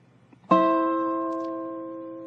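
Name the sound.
dobro played on the 2nd and 4th strings in a reverse slant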